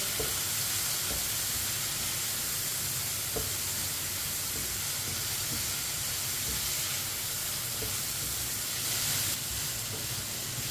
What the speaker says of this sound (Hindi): अब इसे 4-5 मिनट के लिए पका लेंगे, फ्राई कर लेंगे इसे